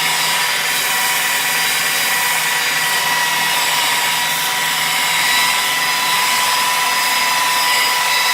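A rotary polisher buffs a car's paint panel at around 1000 RPM, a steady, loud, continuous whir and hiss that holds an even pitch throughout with no pauses.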